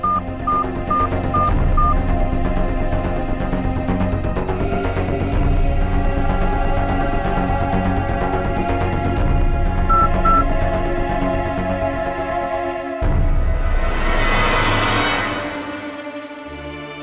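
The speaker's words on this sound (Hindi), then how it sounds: "उन्हें फोन करता हूँ।" A telephone dials a call in a horror drama: short, evenly spaced keypad beeps sound over constant background music, with another brief burst of tones later, then a rising whoosh near the end.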